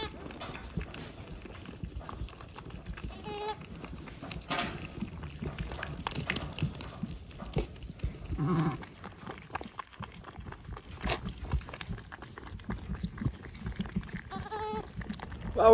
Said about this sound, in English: Couple of beautiful lambs, nice big ones too.